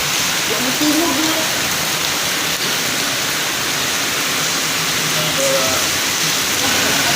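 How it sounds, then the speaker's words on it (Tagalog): Heavy rain pours steadily during Typhoon Odette, a dense, continuous wash of drops on surfaces that stays loud throughout, with faint voices speaking briefly beneath it. "Kusog gihapon ang ulan."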